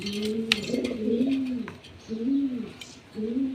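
Nearby pigeon gives low, throaty coos in repeated rolling phrases with short pauses between.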